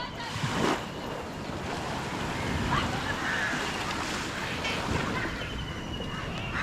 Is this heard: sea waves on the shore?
yes